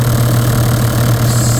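A car engine idles loudly and steadily close by, with a constant low hum and an even mechanical rumble, its swirl flaps removed.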